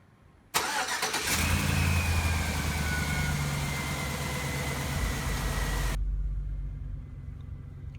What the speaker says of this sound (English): All right, start the car.